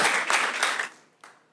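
Audience applause in a room of students, a dense burst of clapping that fades out over about a second, with a brief extra clap near the end.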